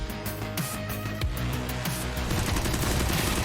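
Rapid submachine-gun bursts from a UMP in a Counter-Strike esports match, a dense stream of loud gunfire with tonal game music or ambience running underneath throughout.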